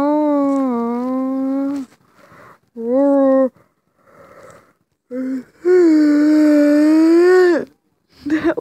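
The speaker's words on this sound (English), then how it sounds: "That was a yawn." Loud, drawn-out voiced yawns, three long moaning exhales with shorter gasping bits between them, the last one the longest and strongest.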